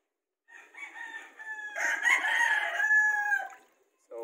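A rooster crows once in a long, drawn-out call, loud and close, with a brief clucking sound starting just after.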